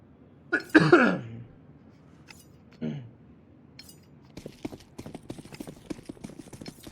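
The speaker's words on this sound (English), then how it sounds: "Sorry if you guys heard me coughing." A few coughs and throat-clearing bursts, close and fairly loud, then a stretch of faint clicking and rustling handling noise.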